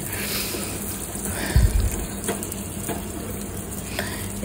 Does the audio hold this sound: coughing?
no